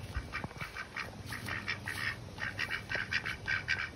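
Several backyard ducks quack repeatedly in a rapid, overlapping chorus of nasal calls, fairly close and steady over light background noise.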